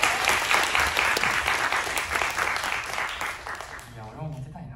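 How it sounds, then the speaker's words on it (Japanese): Steady clapping from an audience, dense and sustained, fading out near the end as a voice begins speaking. "拍手。"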